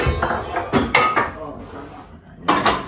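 Dishes and cutlery being washed in a home, several sharp clinks and clatters of plates and utensils in irregular bursts, close by, with people talking in Filipino between the knocks.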